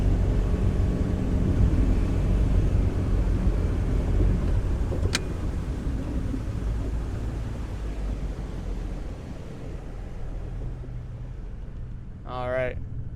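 A 2013 Bayliner 195 powered by a Mercruiser 4.3 engine accelerates out on the water, its broad, roaring engine and rushing noise loud at first and gradually easing as it gets onto plane.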